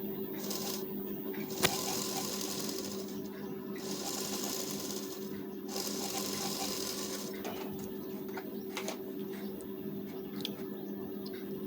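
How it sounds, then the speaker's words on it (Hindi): Sewing machine running steadily while stitching along the border of a lined blouse, a continuous close mechanical whir with a few brief pauses and a sharp click near the start. "सीधी करके सेट करके फिर लगाना है बॉर्डर के ऊपर की सिलाई।"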